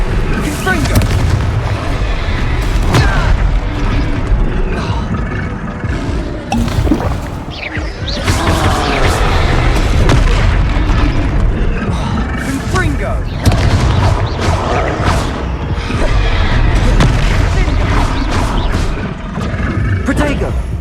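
Confringo blasting spells exploding during a troll fight in the game Hogwarts Legacy, loud continuous booms and blasts layered with battle noise and shouted voices throughout.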